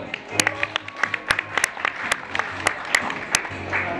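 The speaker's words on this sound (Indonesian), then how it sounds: "kita berikan tepuk tangan untuk Lukman Hadi Lukito" Audience applause at a village culture project kick-off event, sparse individual claps at first building into scattered sharp hand claps over a low hum.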